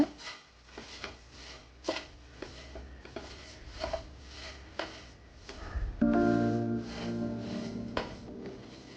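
Puffed rice being mixed by hand for laddu, a dry rustling and crunching with a series of soft irregular scrapes and a fuller, denser stir near the end.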